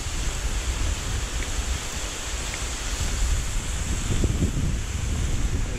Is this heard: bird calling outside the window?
no